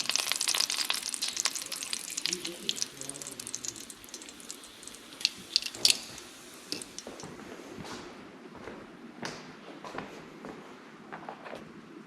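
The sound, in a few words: food frying and charring in a pan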